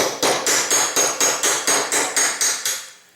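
Eleven even hammer taps on a polymer punch drift a Glock pistol sight across the slide, close and crisp, the last blows fading slightly, with no voices.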